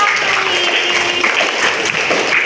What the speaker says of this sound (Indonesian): Iya, beri tepuk tangan, beri tepuk tangan